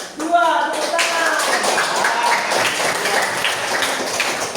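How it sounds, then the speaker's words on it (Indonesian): Classroom applause for a student group, clapping and tapping spread across the whole stretch at a steady level, with a voice speaking briefly over the start. "tepuk tangan buat kelompok 3"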